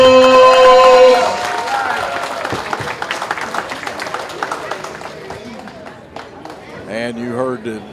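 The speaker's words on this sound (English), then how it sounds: "let's give these two boxers another round of applause" Arena crowd applauding two boxers after an amateur bout at a fight night event, a loud sustained wash of clapping that gradually thins, with an announcer's voice over it near the end.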